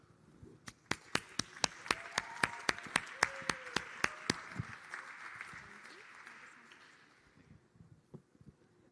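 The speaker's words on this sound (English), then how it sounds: "Please give them a warm round of applause and come to the front." Applause welcomes panelists onto a conference stage at a tech event: a brisk burst of sharp, fairly distinct claps, moderately distant and faint, that thins out after about four seconds into scattered hand claps.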